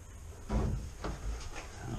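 An old door in an abandoned 1960s village building is tried while locked, giving two or three dull wooden knocks and rattles spaced about half a second apart, close by and moderately quiet, with no talking.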